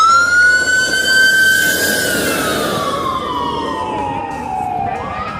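Toy ambulance siren wailing loudly and continuously, a high sweeping electronic tone that slowly falls in pitch and ends with a quick upward sweep.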